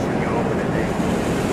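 Water rushes hard through two freshly opened 1.5 inch supply valves at a cooling tower, giving a loud, dense, steady hiss and roar that fills the short moment without pause.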